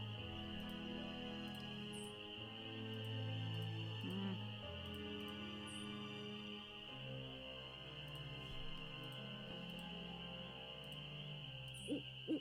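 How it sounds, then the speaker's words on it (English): Owl hooting in a night-time lakeside scene of a Nancy Drew video game, several soft low hoots spread over a continuous drone of crickets and ambient game hum, fairly faint and distant. "I hear an owl."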